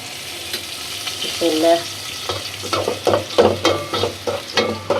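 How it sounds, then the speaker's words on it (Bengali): Bay leaves and spices fry in oil for a chicken bhuna with jackfruit seeds and potatoes, giving a low sizzle broken by a rhythmic series of scraping stirs and clinks of a spoon against the pan. "তেজপাতা দাও দিয়ে দিছি মাইয়া এতে এই যে তেল দিয়ে দিলাম"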